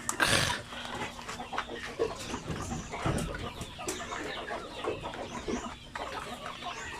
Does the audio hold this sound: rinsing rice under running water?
no